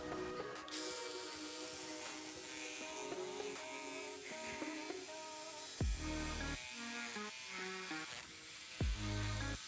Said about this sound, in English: Now we're going to go ahead and shape everything out using our jigsaw.